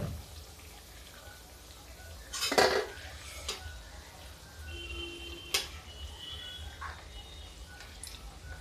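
Pakoras frying in a pan, with a soft sizzle under loud clinks of a fork or utensil against the pan and a few scraping stirs, close up.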